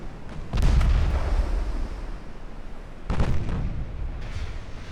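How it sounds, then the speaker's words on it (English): A torpedo hit explodes against a warship in a naval strategy game, two heavy booming blasts about three seconds apart, each followed by a rumbling decay. "It is a torpedo hit."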